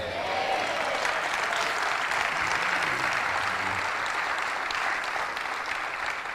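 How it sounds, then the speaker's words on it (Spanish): A conference audience bursts into sustained, steady applause, a dense wash of many hands clapping at even loudness throughout, with faint voices mixed underneath. "Meléndez y Elizabeth, si la gente sigue aplaudiendo, les aumento la tarifa"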